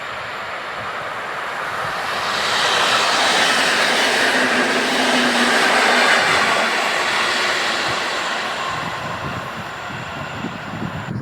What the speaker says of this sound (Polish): zbliża się kolejny kibel ze Zwardonia na Katowice